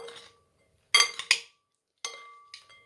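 Salad being mixed in a bowl with utensils, heard as a few sharp, close clinks and taps of the utensils against the bowl, separated by short silences.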